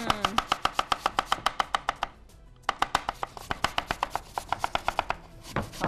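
A knife chops potatoes into fries on a cutting board in a cooking-show kitchen. Close, quick, evenly spaced knocks sound in two bursts with a short pause between them.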